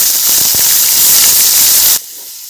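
Chopped onions go into hot oil seasoned with whole cumin and a split bay leaf, setting off a loud, steady, close sizzling hiss that lasts about two seconds and then cuts off abruptly.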